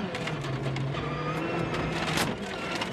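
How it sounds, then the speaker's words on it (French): Hyundai rally car driven by Thierry Neuville on a snowy Swedish WRC stage, engine roaring steadily close by with a sharp thump of striking a rock near the end, gravelly scrape and road noise throughout. "Il a percuté une roche tout simplement."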